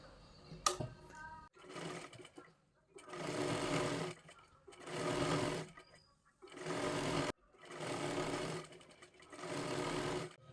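A sewing machine stitches along a folded fabric edge of a puja plate cloth made from blouse pieces. A click opens the clip, then five close, steady bursts of stitching follow, each separated by a short pause.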